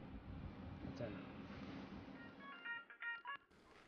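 A telephone is dialed to place a call, a quick series of short keypad tones that come after a stretch of indistinct background noise.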